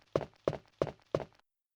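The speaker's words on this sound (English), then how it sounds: "let's follow the sound of footsteps here." Footsteps from the next room in the original Resident Evil 2, four evenly spaced, hollow thudding steps at a steady walking pace, fairly quiet, then stopping.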